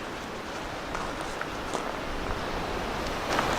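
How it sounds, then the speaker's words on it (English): Wind blowing at a campsite, a steady broadband rush with faint gusts and rustling, moderately quiet and continuous without talk. "Yeah, well, I said it wasn't as windy, but it just picks up again."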